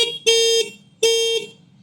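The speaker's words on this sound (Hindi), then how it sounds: "हॉर्न की बात करते हैं तो जरा सुनना दोस्तों" Two loud, clear horn blasts from a Hero VX2 Plus electric scooter, each about a third of a second long with a bright electronic tone, separated by a short pause.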